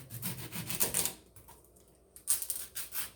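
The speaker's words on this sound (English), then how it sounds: "Cutting the onion." A serrated knife sawing through an onion on a cutting board, close and fairly quiet, with rasping back-and-forth strokes in two bursts separated by a brief pause.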